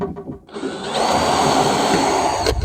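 A cordless drill with a Camo bit boring pilot holes into thermowood decking boards, a steady whirring motor whine that starts after a brief quiet moment and runs on loudly and close.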